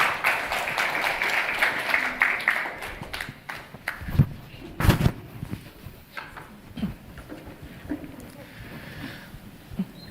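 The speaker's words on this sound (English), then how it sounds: "round of applause, ladies and gentlemen." An audience claps at an international architecture awards event, a dense burst of applause that thins out into scattered claps and a few louder hand hits, with some faint voice underneath.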